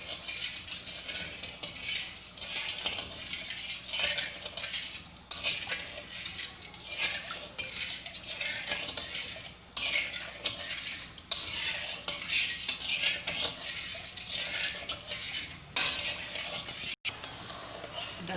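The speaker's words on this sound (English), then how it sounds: "So keep stirring till the sugar melts completely." A spoon scrapes and clinks steadily around a pan of sugar syrup for Mysore pak, continuous close stirring with repeated metallic taps and scrapes and no voices.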